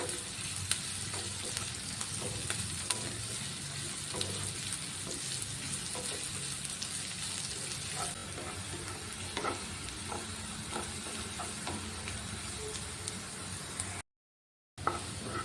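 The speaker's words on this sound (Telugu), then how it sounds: "ఆనియన్స్ అన్నీ ఇలా గోల్డెన్ కలర్లోకి మారే వరకు వేయించుకోవాలి" Onions frying in a pan until golden give a constant soft sizzle with scattered crackles and stirring scrapes, close but fairly quiet, with a brief dropout near the end.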